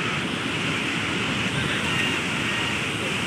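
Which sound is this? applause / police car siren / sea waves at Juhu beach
sea waves at Juhu beach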